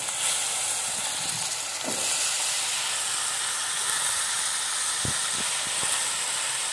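Pieces of elephant foot yam hit hot masala in a pan and sizzle with a steady, bright hiss, with a few soft clatters of stirring near the end.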